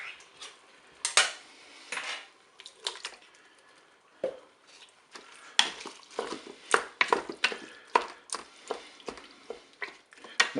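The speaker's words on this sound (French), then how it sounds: "Je vais verser mon vin blanc. Je vais ajouter mes tomates pelées." Wine and peeled tomatoes tipped into a Cookeo multicooker pot, with a run of clinks, knocks and splashy pouring scrapes of utensils against the pot, close and fairly quiet, some louder taps toward the end.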